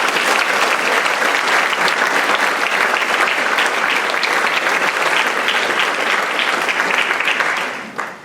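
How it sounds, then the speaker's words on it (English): Sustained, dense audience applause fills a school spring band concert hall, loud and even throughout before tapering off at the end. "Nice round of applause to these students."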